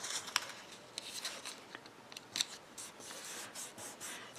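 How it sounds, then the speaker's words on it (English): Thin die-cut cardstock being folded along its scored lines, giving crisp, papery creases and rustles in quick, uneven bursts at close range. "I am going to fold on all of the scored lines"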